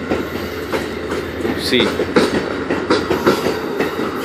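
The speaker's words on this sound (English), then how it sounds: "Amtrak 50 departing." Amtrak 50 passenger train, led by locomotive 189, departs Charlottesville station in Virginia with a close, loud rumble and rhythmic clickety-clack of wheels over rail joints, and a short spoken remark over it.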